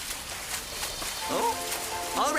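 Cartoon rain keeps up a continuous soft hiss, with a character's voice calling out briefly over it near the end.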